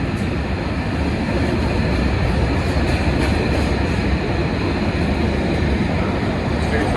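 A heavy train rumbles past close by on a London railway, a loud dense roar of wheels and carriages that holds steady and unbroken throughout.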